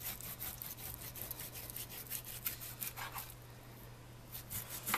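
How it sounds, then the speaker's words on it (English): A knife slicing pork loin into even slices gives faint, repeated scraping and rubbing strokes against a quiet, low hum. "I'm just kind of cutting them the same thickness so that when I bake them or cook them, they're going to cook evenly"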